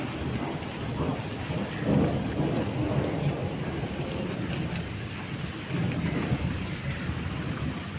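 Heavy rain pours steadily on surfaces while low rolls of thunder rumble through, a dense, continuous storm wash with no voices.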